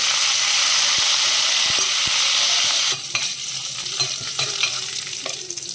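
Cumin seeds, dried red chilies and curry leaves sizzle in hot oil while making mint rice, a loud steady frying hiss that drops suddenly partway through, followed by quieter crackling and several sharp stirring clicks against the pan.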